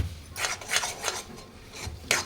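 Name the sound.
stirring roasted gram laddu mixture in a pan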